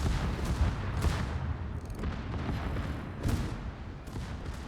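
Battleship main guns fire armor-piercing shells in a naval combat video game, heard as rumbling booms and a repeated low gunfire roar under a dense wash of battle noise, with no talking.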